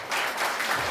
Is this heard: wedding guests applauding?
yes